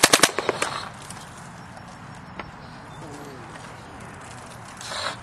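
Electronic paintball marker with an electronic trigger and hopper, set to fire about ten balls a second at an outdoor paintball field, rattles off a quick burst of close, sharp pops at the start, followed by quieter ambient outdoor noise and a faint later rustle.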